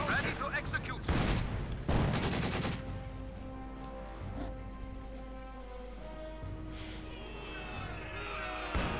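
Grenade blasts and rapid gunfire from a Company of Heroes 2 battle, with several loud bursts early on and then a quieter stretch with someone talking over it.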